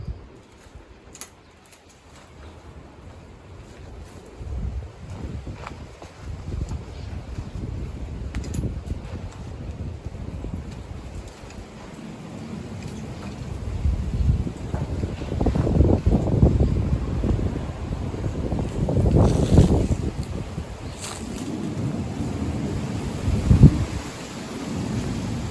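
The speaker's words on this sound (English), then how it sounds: "the wind is howling, beating, loud, vicious, offensive wind" Strong, loud wind roars and buffets high on a radio tower, gusting harder in the second half with rumbling low surges and microphone buffeting throughout.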